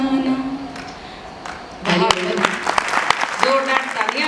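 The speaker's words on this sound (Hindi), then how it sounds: "जोरदार तालियां बजाकर भूमिका जी का स्वागत है।" An audience at a live Hindi poetry performance breaks into applause, a burst of clapping rising after a spoken passage and continuing with voices mixed in.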